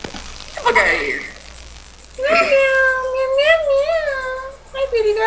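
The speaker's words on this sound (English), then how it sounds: "Meow." A cat in the Minecraft video game lets out several drawn-out meows, one short cry followed by a longer wavering yowl and a final meow, fairly close and clear.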